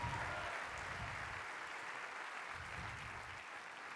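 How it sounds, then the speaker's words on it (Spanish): Church congregation applauding during a worship service, a steady, even wash of many hands clapping at once that sounds somewhat distant and soft and fades slightly toward the end. "Dale ese aplauso al Rey de Reyes"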